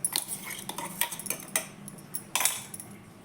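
Soaked poha and chopped fenugreek leaves are added to a large metal vessel, with a series of close, bright clinks and scrapes of a spoon against the pot at an uneven rhythm, then quieter rustling; no speech.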